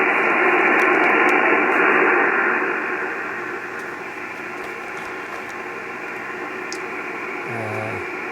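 Loud hissing radio static from a receiver tuned to sideband with a garbled signal, fading slightly partway through, with a brief tone near the end.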